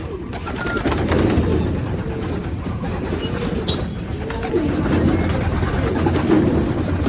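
Racing pigeons coo outdoors during South training in Baras, Rizal, soft rolling calls repeating over a steady background hum, with occasional wing flutters and no one speaking.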